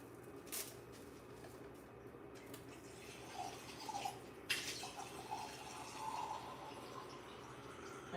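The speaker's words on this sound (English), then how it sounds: "I'm gonna add some water." Water is poured into a bowl while making pumpkin bread, a faint trickling and dripping with a few soft splashes in a quiet kitchen.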